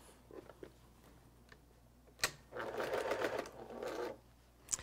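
Sewing machine stitching a quilt block seam, a steady whirring run of about a second and a half preceded by a few small clicks and handling sounds, fairly quiet and with no talking.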